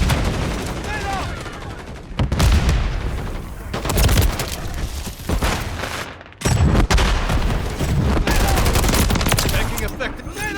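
Dense gunfire and grenade blasts in a Modern Warfare 3 multiplayer match, loud and continuous with sharp bursts and heavy booms throughout, plus brief game voice callouts mixed in.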